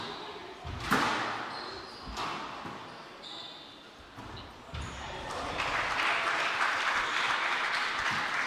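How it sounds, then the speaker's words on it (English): Spectators at a squash match applaud after a rally, a swelling patter of clapping that builds toward the end, preceded by a few sharp court thuds and pings from the ball. "Turkmen with the round of applause."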